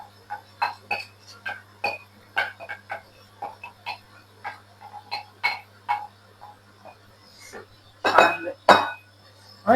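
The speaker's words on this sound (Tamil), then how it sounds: "நல்லா கிளறி விட்டு கொள்ளுவோம்" A spoon knocks and scrapes in a pot as soaked rice and lentils are stirred into meat for meat kanji, giving irregular close clinks with a louder scraping flurry near the end.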